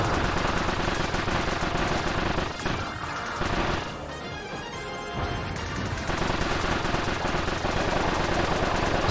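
Rapid missile and pistol-style shots fired in Kirby's Return to Dreamland Deluxe, a dense, loud stream of game blasts that briefly thins mid-clip before resuming at full strength.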